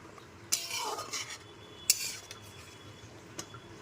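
Papaya curry with bori lentil dumplings being stirred in a pan: a few close scraping strokes of a spoon with light clinks and a faint sizzle beneath, in short bursts.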